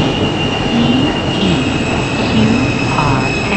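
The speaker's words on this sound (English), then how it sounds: "This is a Queensbound N Express train." A Roblox R160 N Express subway train at Times Square rumbles steadily along the tracks, with a constant high whine and occasional wheel squeals, loud and close throughout.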